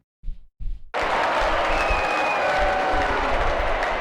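Courtroom applause in the Phoenix Wright: Ace Attorney video game, opening with a couple of brief knocks and then breaking into a sustained, loud wash of clapping crowd noise.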